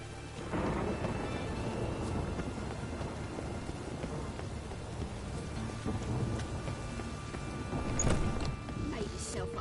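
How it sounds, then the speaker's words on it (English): Steady rain pours throughout in the video game The Witcher 3: Wild Hunt, with low rumbles of thunder rolling underneath and a sharper crack near the end. "Rain, I like rain."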